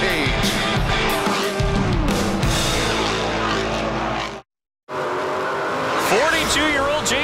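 NASCAR Pinty's Series stock cars race on a tight track at the Lucas Oil 250, engines roaring loudly with passing whines and tire squeal, under commentary, broken by a brief cut to silence.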